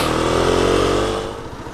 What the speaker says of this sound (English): Oh sugar, the bike's stuttering,